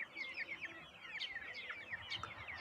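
Young poultry chicks cluck and peep in rapid, overlapping high chirps, a steady chattering flock heard fairly close and fairly quiet, with no talking.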